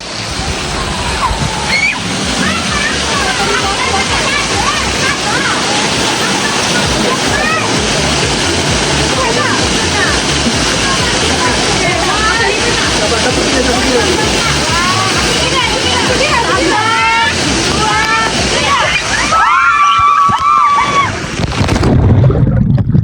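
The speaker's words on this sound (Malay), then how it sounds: "Dia percikan." Water at Sungkai hot spring splashes and sloshes continuously, loud and close, while several people talk and call out over it.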